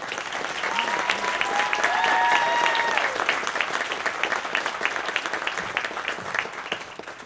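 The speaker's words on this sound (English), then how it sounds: "Hey, big round of applause." A room full of people gives a big round of applause at a Greater Dallas Republicans gubernatorial forum for candidate Debra Medina. The dense, steady clapping lasts throughout, with a few faint tonal calls or whistles rising above it early on.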